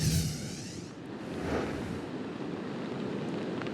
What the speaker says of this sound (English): the surf has kicked up pretty good behind you now